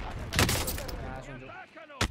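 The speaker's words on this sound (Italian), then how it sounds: "Mi ha tirato un bombardamento." Bombardment airstrike explosions in a battle royale video game give two sharp, booming blasts, one early and one near the end, between stretches of a voice talking over the game sounds.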